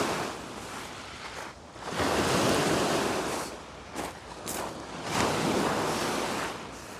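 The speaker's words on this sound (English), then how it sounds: "The waves today are crazy." Rough ocean waves breaking on a beach at sunrise, surging in broad washes that swell and recede every few seconds, loud and close with wind buffeting the microphone, no voices.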